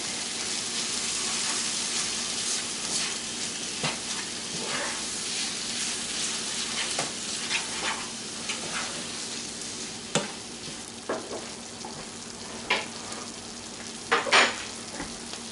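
Parmesan cheese being stirred into spaghetti squash in a pan, a soft continuous sizzle with irregular scraping strokes that grow sharper and louder toward the end, no voices.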